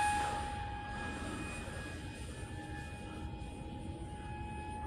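An F7U Cutlass jet aircraft flies in a video game, giving a steady broad engine roar with a thin whine that stays constant and moderately loud before easing slightly, with no voices.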